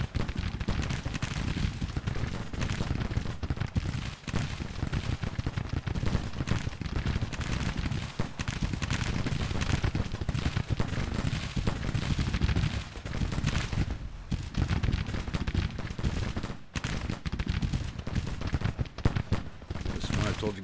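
Soldiers firing in a Civil War video game produce dense, continuous rolling gunfire and musket volleys, loud and crowded throughout, with a voice talking over it.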